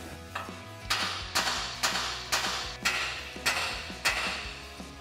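Metal hammer strikes on a truck's steering knuckle ring out one after another at a steady, roughly half-second rhythm, each a sharp clang with a short ring, close and loud.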